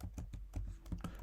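Someone types an email address on a computer keyboard, a quick series of soft, close key clicks in an uneven rhythm over a low background hum.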